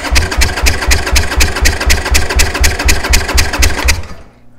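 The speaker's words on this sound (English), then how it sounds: "We're going to hold the throttle wide open while we hit the start button." A Harley Davidson motorcycle engine cranking on the starter with the throttle held wide open, a loud, close, rapid rhythmic chugging that runs steadily for about four seconds and then cuts off.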